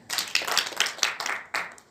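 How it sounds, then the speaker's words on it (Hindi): Short burst of audience applause, light and moderately distant, with scattered claps rising and fading over about two seconds. "इनके लिए तालियां हो जाइए"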